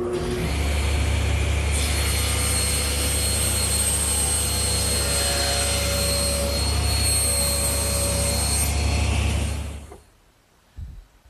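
A table saw rips a wood panel for a firewood box against its rip fence, a loud steady whine held for about nine seconds before the blade spins down and fades.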